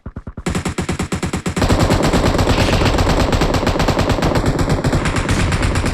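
Sustained automatic gunfire in the PUBG Mobile video game: rapid, loud, evenly spaced bursts that start with distinct shots and merge into a dense continuous barrage lasting several seconds.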